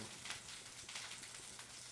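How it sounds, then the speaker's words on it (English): Steady, crackling sizzle of achiote fish sausage frying in a pan, a soft continuous hiss with small pops, moderately quiet and close. "You can hear the sausage sizzling."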